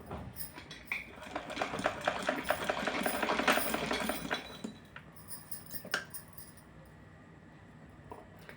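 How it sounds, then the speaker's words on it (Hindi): A sewing machine stitches fabric for a small Radha deity doll dress, with a close, busy rattling run for about four seconds that then drops to a quieter hum with scattered light clicks. "तो चलिए सिल के दिखाती हूँ आपको। इस तरह से इसको हम सिलेंगे"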